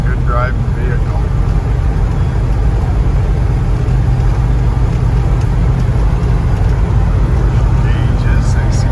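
A 1979 Chevrolet Blazer driving down the road gives a continuous low engine rumble and road noise from inside the cab, with a faint voice now and then.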